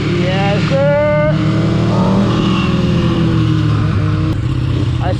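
A Kawasaki ZX6R motorcycle engine revs up close and loud, its pitch climbing in quick bursts over a steady droning idle, with a voice speaking briefly under the engine.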